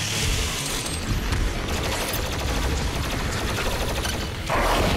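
Rapid continuous minigun fire in the video game Doom Eternal, a dense, loud mechanical roar of rounds with whirring, steady from start to finish.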